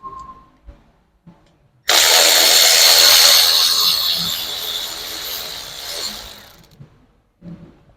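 A power driver with a Torx T30 bit spinning out a bolt on a 2018 Land Rover Discovery in a repair shop, one loud close burst of whirring lasting several seconds between quieter clicks and handling sounds.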